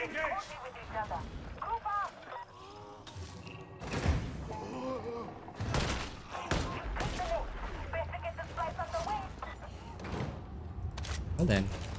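Shotgun blasts in Warhammer 40,000: Darktide, several heavy booming shots spread irregularly through busy combat noise, while people talk over most of it.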